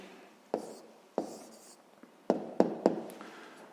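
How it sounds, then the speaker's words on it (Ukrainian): A pen writes an answer down on paper in a quiet room. Several short, crisp scratching strokes come close together, faint but clear, with brief pauses between them. "Ну що ж, записуємо тоді відповідь."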